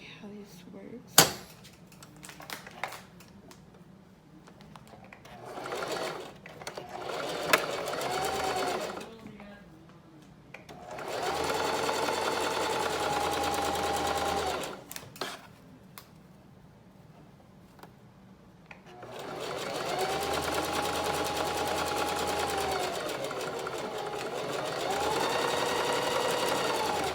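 A sewing machine runs in repeated bursts of fast, steady mechanical whirring while stitching fabric, with long sustained runs separated by quieter pauses and a few clinks and handling noises between them.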